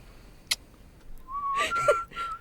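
Someone who cannot really whistle tries anyway, producing a thin wavering whistle tone with breathy gaps, close and faint, preceded by a small click.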